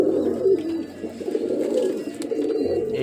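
Pigeons coo softly and continuously in a loft, with low, rolling calls overlapping close by and an occasional faint chirp.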